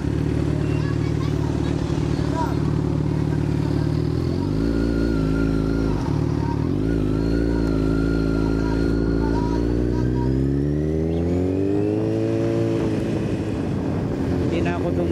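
Motorcycle ridden out onto a highway, a loud continuous engine drone close by whose pitch climbs and falls through gear changes, with wind noise throughout.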